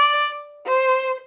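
Two dotted up-bow notes on a violin, each bright and ringing, the first cut off abruptly when the bow stops suddenly, the second following right after, played solo.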